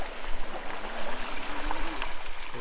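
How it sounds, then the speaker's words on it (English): An AR Kepler eBike rides through water on River Road Machete trail, giving a near, uneven splashing and gurgling wash with a low rumble underneath, no voices. "I'm going through the water this time."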